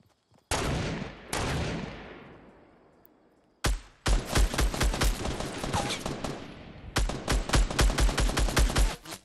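Gunfire from the battle royale video game Fortnite: two loud single shots with echoing decay, then dense rapid bursts of automatic fire in close succession, near and loud, with no voices.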